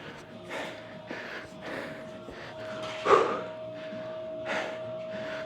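Heavy, rhythmic breathing from a person working through a getup workout, a steady series of forceful exhales and sharp snorting breaths, close and moderately loud, with a brief louder gasp midway.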